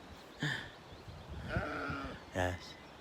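Swaledale sheep bleat in the Cumbrian countryside beside a former railway siding woodland walk, with three separate bleats, the middle one longer and wavering, close and clear over quiet outdoor ambience.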